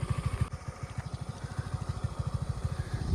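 Motor vehicle engine running while stuck on a half road, a steady rhythmic low putter throughout, near and fairly loud, with no talking.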